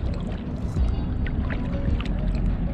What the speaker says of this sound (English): So I'm just paddling, going nice and slow.